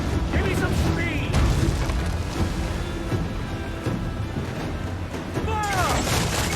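Ship cannons fire in Assassin's Creed IV: Black Flag naval combat, heavy booms and crashing impacts rolling one after another at close range, with shouting voices over the battle.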